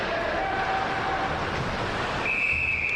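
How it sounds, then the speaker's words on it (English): A referee's whistle cuts through steady crowd and arena noise at a Hong Kong league ice hockey game, with one thin whistle note early on and a brighter, louder blast near the end. "And we have a whistle."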